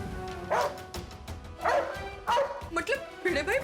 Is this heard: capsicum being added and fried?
no